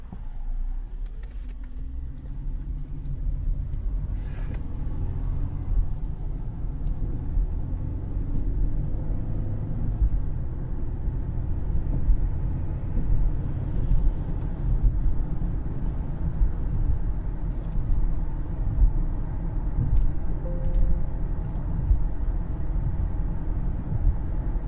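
2013 Cadillac CTS 3.0 RWD, recently repaired for transmission trouble and vibrations, driving on the road with a steady low engine and tire rumble inside the cabin, continuous and even throughout.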